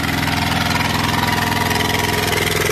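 Steady idle of a two-cylinder Kubota diesel powering a tracked wood chipper, heard up close as a loud, continuous low chugging hum with an even pulsing beat.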